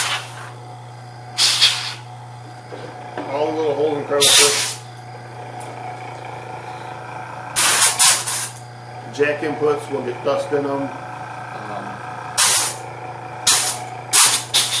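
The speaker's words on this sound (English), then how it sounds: "I'm going to spray it from the back side again." Compressed air sprays in several short, loud hissing bursts to blow dust out of a power amplifier, its fan, holes and jack inputs, while someone talks between the bursts over a steady low hum.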